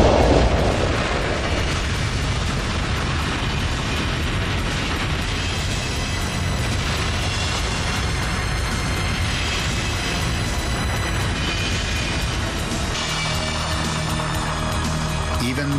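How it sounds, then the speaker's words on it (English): Explosion at the high-pressure unit of an oil refinery during a fire: a loud initial blast followed by a sustained, dense roar of burning and rumbling debris that stays heavy throughout. "Before they can put the blaze out, it explodes."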